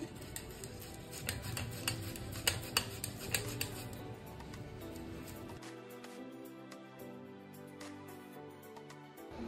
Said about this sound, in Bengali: এখন আলুটাকে আমি গ্রেট করে নিচ্ছি।